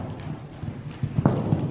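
A horse's hooves clop in a steady trotting rhythm on the ground during a riding lesson, close and clear with little else around.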